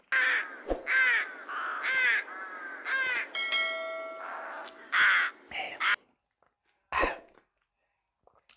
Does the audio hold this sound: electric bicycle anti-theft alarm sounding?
no